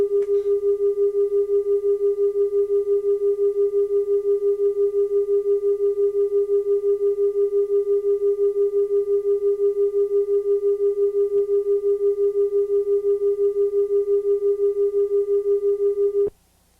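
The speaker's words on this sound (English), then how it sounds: "These two sounds will be of different frequencies and will produce beats." Two steady pure tones of slightly different frequency, near a 400 Hz tuning fork, sound together and produce acoustic beats, a smooth regular pulsing swell in loudness that lasts evenly throughout before stopping abruptly.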